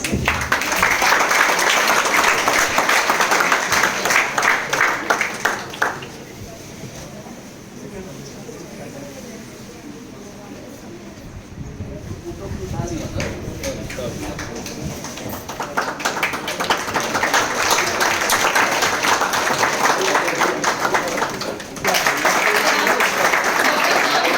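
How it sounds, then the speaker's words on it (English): Audience applause at an academic lecture event, a broad dense clatter of clapping that fills the room, eases to a softer patter in the middle with some voices underneath, then swells again to full loudness. "Have a big round of applause."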